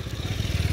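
A Powertrac 42 tractor engine labours in a steady low pulsing throb as it strains to climb a slope, loud and close, with a clattering rattle over the chug.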